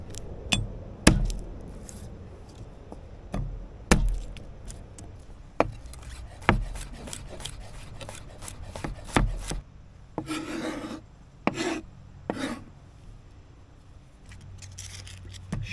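A knife chops garlic on a cutting board, sharp irregular knocks spread out over several seconds, with a few scraping bursts in between as the pieces are gathered.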